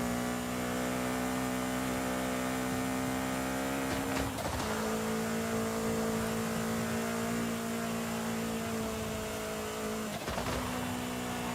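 A car engine in the video game Forza Horizon 5 holds a steady droning tone, with two abrupt jolts as it downshifts and the pitch shifts before settling back into a sustained roar.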